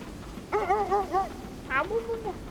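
Dogs in the video game KONA II Brume give a short series of close whining yips and barks over low background hum, a few quick calls then a higher yelp.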